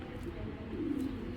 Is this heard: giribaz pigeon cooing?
yes